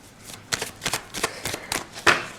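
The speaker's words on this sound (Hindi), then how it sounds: "इसके लिए मैं आपको थोड़े से कार्ड्स शफल करके बताती हूँ" Tarot cards are shuffled by hand in a quiet room, a series of soft riffling bursts in an uneven rhythm, close up with no talk.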